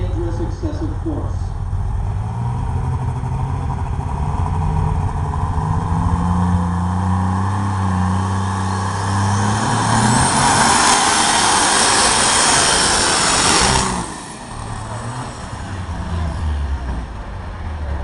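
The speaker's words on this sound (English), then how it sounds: "This is Brian Forth. He is currently in number 3 position in the points with this tractor, the MX210 Armed and Dangerous Excessive Force." MX210 pulling tractor at a county fair truck and tractor pull: a loud engine roar builds and holds for about fourteen seconds, then drops off sharply to a lower idle, while an announcer talks over it.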